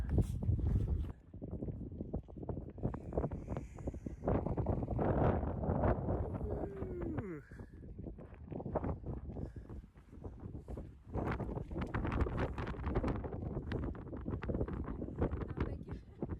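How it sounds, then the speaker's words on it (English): Strong gusty wind buffets the microphone on the Pacific Crest Trail, rumbling loudly and continuously, with a voice speaking briefly underneath. "Just a little windy, huh?"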